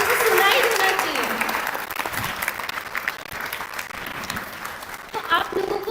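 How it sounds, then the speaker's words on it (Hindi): Loud, sustained applause from an audience of girls at a festival celebration, a dense wash of clapping with scattered cheers that swells again near the end. "एक बार जोरदार तालियां हो जाए गर्ल्स, अच्छे से सुनाई देना चाहिए।"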